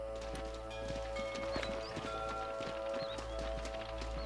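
Horses' hooves clip-clop in a steady, close patter as riders dismount in the video game Red Dead Redemption, with a sustained tonal background beneath the rhythmic hoof beats.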